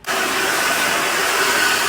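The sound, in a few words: hair dryer blowing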